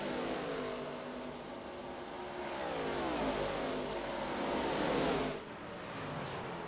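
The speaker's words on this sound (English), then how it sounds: "Cars coming down pit road." Race car engines on a FARCA race weekend at Nashville coming down pit road, a steady loud roar of several cars that swells, peaks, then cuts off abruptly near the end, with no talking.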